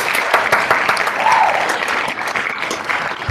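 Audience applause fills the whole stretch, with dense, steady clapping from a crowd that holds at an even loudness from start to finish with no talk over it.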